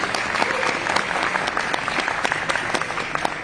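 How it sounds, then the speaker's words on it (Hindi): Seminar audience in a hall gives a loud, sustained round of clapping, dense and even with crisp individual claps throughout and a faint murmur of the crowd beneath. "आप सब लोगों के लिए जोरदार तालियां"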